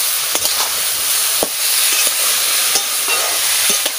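Mustard seeds and chillies crackle in hot oil in a pan as chopped banana stem goes in, a loud steady sizzle punctuated by sharp pops and stirring knocks, near and without talk.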